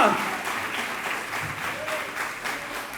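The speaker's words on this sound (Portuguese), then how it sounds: "aplauda o nome do Senhor Jesus" A church congregation applauds, a steady wash of many hands clapping at once, fairly distant and soft, continuing evenly with no voice over it.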